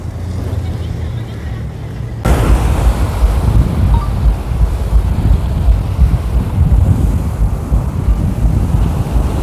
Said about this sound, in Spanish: las olas